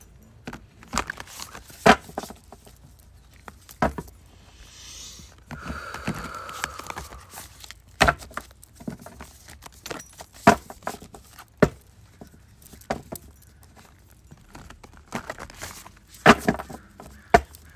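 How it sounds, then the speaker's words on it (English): Tarot cards are shuffled by hand in sporadic bursts of crisp riffling and soft tapping, close and fairly quiet, with pauses between bursts and a brief soft breath partway through. "So let's shuffle for the collective, shall we?"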